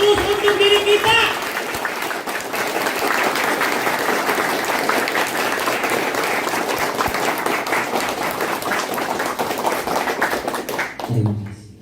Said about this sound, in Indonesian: Maka aplaus yang meriah untuk diri kita, untuk orang-orang yang kita sayangi.